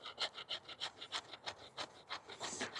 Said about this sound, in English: the fat wood scrapes pretty darn well